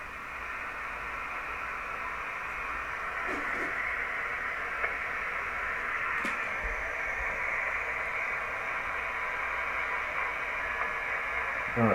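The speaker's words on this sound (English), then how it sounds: "I'm starting to hear some static" Steady hiss of static from a repaired Heathkit HW-101 amateur radio receiver, a constant broadband wash filling the whole stretch with faint clicks and crackles, no voices.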